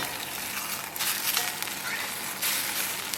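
Blini, Russian pancake batter frying in a hot pan, a steady close bright sizzle with small crackles and surges, a voice talking faintly beneath it.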